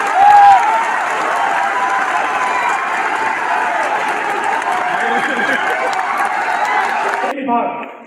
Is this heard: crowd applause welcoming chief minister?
yes